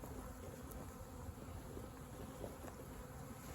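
Honey bees swarm around a beekeeper's face, a dense, close, continuous buzzing drone filling the space with no voices.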